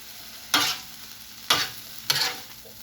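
Chopped cheese and meatball sizzle on a hot griddle as a spatula stirs and scrapes through them in three sharp bursts, each dropping back to a quiet crackle.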